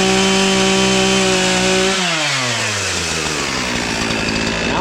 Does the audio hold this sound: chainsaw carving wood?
yes